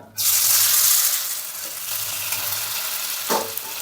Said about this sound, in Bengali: এগুলো ঘুরিয়ে ফিরিয়ে ভেজে নেব